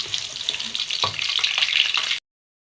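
Garlic, chili and shallot stir-fried in a pan for a clam dish, a close, crackling sizzle with a few stirring clicks, steady for about two seconds before stopping abruptly.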